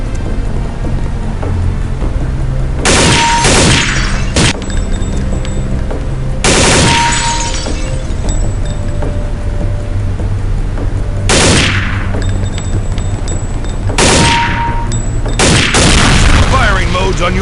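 Gunfire in the Counter-Strike Condition Zero training range, several short bursts of sharp shots spaced across the stretch, loud and close, with spent-casing clinks and a faint voice under the firing.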